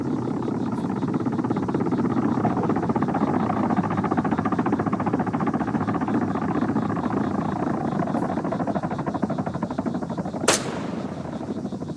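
In a video game sniper mission, a helicopter target's rotor gives a loud, continuous whirring drone throughout, with a single sharp gunshot cracking out near the end.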